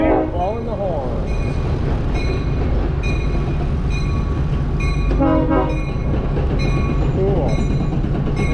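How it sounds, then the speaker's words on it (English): A train blows its horn repeatedly in long, loud blasts along a trail near a bridge detour, the wailing tones sounding close over a steady rumble of rolling rail cars, with a person talking briefly. "A train, actually, and they are blowing the horn."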